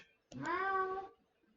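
A single drawn-out cat meow, close and clear, rising slightly in pitch and holding for under a second before quiet returns.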